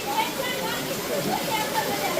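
Heavy rain pouring down in a dense, steady hiss that never lets up over a vegetable market in Dhrangadhra, with indistinct voices faintly underneath.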